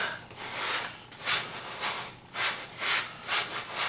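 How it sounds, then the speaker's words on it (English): Rhythmic scraping strokes of sandpaper rubbing against the inside of metal rifle scope rings, about eight back-and-forth passes, close and fairly quiet with no talking. "so you're sanding the inside of the rings"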